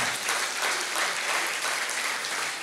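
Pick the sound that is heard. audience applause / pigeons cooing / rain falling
audience applause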